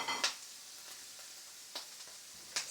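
Prosciutto frying with soffritto vegetables in a pan gives a quiet, steady sizzle close by, broken by a few sharp scrapes or stirs.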